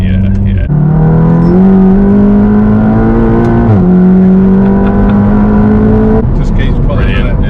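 A 520bhp Volkswagen Golf GTI Clubsport accelerates hard in third gear, heard from inside: a loud droning engine note climbs steadily with a short dip at a gear change, ending in a brief lift-off.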